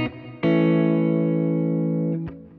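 Electric guitar played through a Kemper profiler with the EQ pedal switched off: a short note, then a loud sustained chord ringing for nearly two seconds before a brief final strum, alone with no talk.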